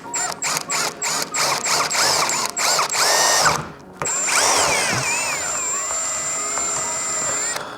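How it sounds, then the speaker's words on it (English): A power drill boring holes in a Subaru WRX to mount an APR GTC-300 GT wing: about a dozen short, rapid whirring bursts, a brief gap, then one long, steady high-pitched whine, close and loud. "I'm gonna start with the smallest drill bit and work my way up until they can fit through the holes."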